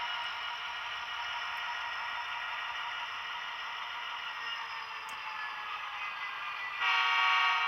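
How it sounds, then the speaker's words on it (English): An HO scale Athearn Genesis SD75 model locomotive runs with a steady, loud mechanical drone, its pitch rising slightly as it is throttled up, and a brighter horn-like tone joins near the end. "I always find these locomotives just to be a hair too deafening. So running it up here a little bit"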